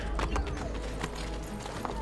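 Horse hooves clip-clopping at a steady gait in the Assassin's Creed: Brotherhood video game, a rhythmic series of close, moderately loud hoof falls over continuous game ambience, with a brief trace of speech in the mix.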